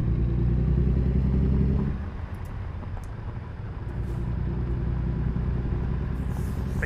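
A truck engine drones steadily while driving, a loud low rumble from inside the cab that drops briefly and then builds back up, with no talking.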